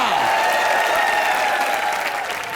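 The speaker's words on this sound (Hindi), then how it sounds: "जोरदार तालियां भारती जी के लिए और कॉमेडी नाइट्स लाइव, जोरदार तालियां।" A studio audience on a Colors TV comedy show applauds loudly and continuously, a dense wash of clapping that holds steady and fades slightly at the end, with faint voices mixed in.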